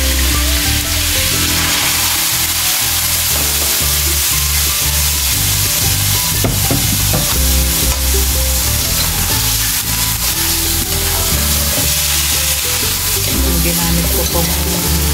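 Pork and dried mushrooms sizzle loudly in a frying pan while being stirred, a steady close crackle with occasional scraping, no talk.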